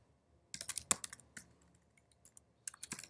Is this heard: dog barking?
no